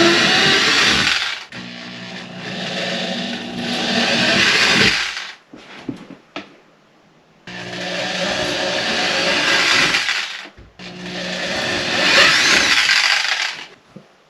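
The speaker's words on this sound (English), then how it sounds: "Now we're going to drill big ass holes." A power drill whirs loudly in three long bursts, each a few seconds, with short pauses and clunks between them as it bores into a wall.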